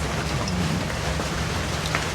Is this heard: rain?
yes